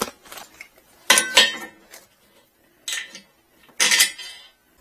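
Metal bolts, flat washers, lock washers and nuts clink and rattle in a few short, bright bursts with quiet gaps between, while a Harbor Freight 1 ton engine crane is assembled.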